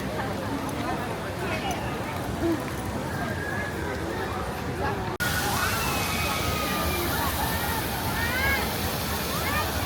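Water rushes and sloshes around a raft on the Grizzly River Run ride at Disney California Adventure, a continuous churning wash with a sudden shift midway, with voices in the background.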